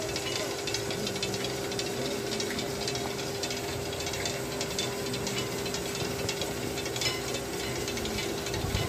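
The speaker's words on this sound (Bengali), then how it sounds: "বেল্ট দিয়ে কয়েকটি চাকার সাথে একটি করে রড এবং তার সাথে ব্লেডের মতো আছে প্রত্যেকটা কড়াইয়ের ভেতরে, সেটা ঘুরপাক খাচ্ছে" Motorized pans for making puffed rice, each fitted with a belt-driven rod and rotating iron blades that stir rice inside, give off a steady mechanical hiss and rattle with a constant hum, continuous and fairly loud throughout.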